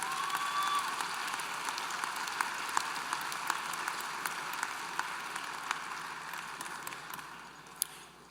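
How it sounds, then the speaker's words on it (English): Applause fills a large hall at a university graduate commencement ceremony as engineering students are hooded, a steady, somewhat distant wash of many clapping hands that slowly fades toward the end. "let's have a round of applause for all those students hooded in the College of Engineering"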